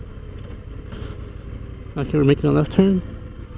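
An Indian FTR 1200 motorcycle's V-twin engine, ridden on the road, gives a low, steady rumble in the background while someone talks loudly over it near the end.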